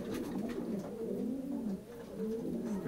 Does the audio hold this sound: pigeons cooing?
yes